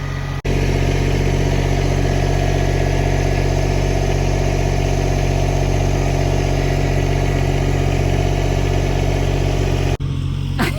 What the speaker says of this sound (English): Here we go, tractor at work.